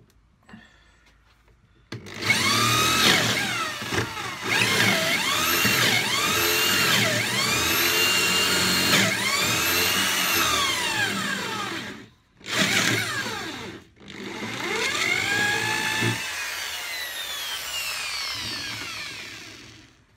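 Power drill boring holes through a wooden workbench for holdfast and bench dog fittings, a loud close whine with rising and falling pitch sweeps, briefly cutting out twice before continuing.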